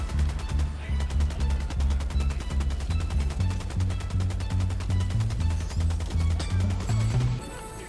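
A heavy machine gun fires in the video game Helldivers 2, a loud, fast, steady stream of close booming shots lasting several seconds that ends abruptly.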